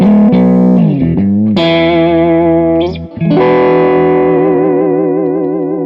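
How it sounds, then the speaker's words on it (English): Electric guitar, a Stratocaster on its middle and bridge pickups together, with a bright, slightly nasal tone rings out loud, a few notes then a sustained chord wobbling with chorus-like modulation. "The next position is the middle and bridge pickup together."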